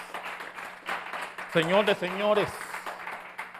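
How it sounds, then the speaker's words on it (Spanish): A church congregation at a Sunday service claps and applauds in a steady broadband wash, while a voice speaks over it midway through. "¿Por qué no lo demuestra dándole un fuerte aplauso al Rey de Reyes"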